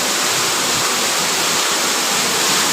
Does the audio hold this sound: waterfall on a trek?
yes